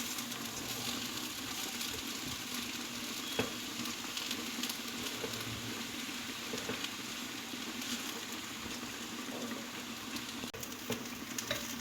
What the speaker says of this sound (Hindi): ये सारा मसाला इसमें डालने के बाद 2 से 3 मिनट इसे सिर्फ भूनना है।